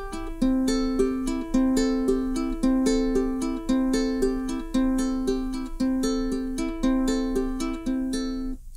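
A ukulele is finger-picked in a Travis pattern with an alternating thumb, bright plucked notes repeating in a steady rhythmic cycle across several chord changes, played alone and close.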